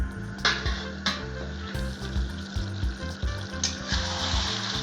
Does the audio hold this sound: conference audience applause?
no